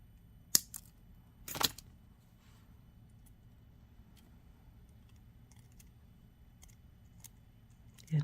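A single sharp snip of wire cutters trimming a bit of earring wire during jewelry making, followed by a few faint clicks and light handling noises in an otherwise quiet room.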